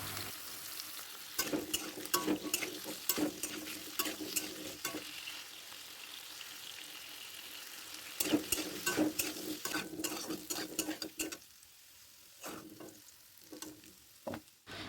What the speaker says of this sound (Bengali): কড়াইতে তেল গরম করে ছোট ছোট করে কেটে রাখা আলুগুলোকে নুন হলুদ দিয়ে বেশ ভালো করে লাল লাল করে ভেজে তুলে রাখবো।